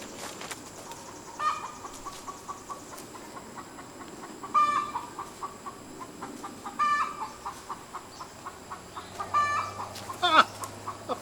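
A backyard hen cackles after laying an egg, repeated clucks and calls at a distance over low outdoor ambience, coming in several separate bursts.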